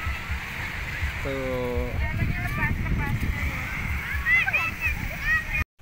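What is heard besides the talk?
beach water splashing at Tanah Merah beach, Samboja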